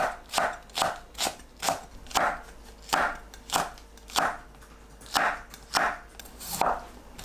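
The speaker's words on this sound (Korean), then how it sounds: "파와 청양고추는 어슷 썰어서 준비합니다." A knife slices diagonally through scallion and green chili pepper on a cutting board in a steady rhythm of about a dozen crisp, close cuts with no talking.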